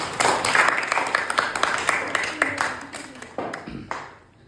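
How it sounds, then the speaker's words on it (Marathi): Studio audience applauding Pallavi after a coin-counting brain game, a dense patter of clapping that runs steadily then tapers off near the end, with background chatter mixed in. "पल्लवीसाठी एकदा पुन्हा टाळ्या"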